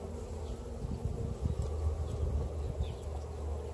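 Honeybees buzz in a continuous low drone around an open hive during a weekly summer inspection, the swarm hum steady and fairly faint with individual bees swelling briefly nearer.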